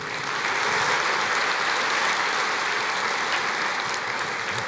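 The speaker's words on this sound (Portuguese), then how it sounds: "Pode aplaudir o Senhor." Church congregation applauding, a continuous wash of many hands clapping at even loudness throughout, with no clear voices on top.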